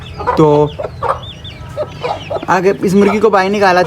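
Aseel hens cluck and murmur close by in short, overlapping calls, with one louder squawk early on.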